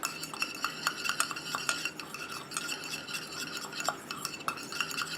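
Xanthan gum powder mixed into homemade charcoal toothpaste, a rapid series of small clicking, scraping stirring strokes against a bowl, close and moderately quiet, with no voices.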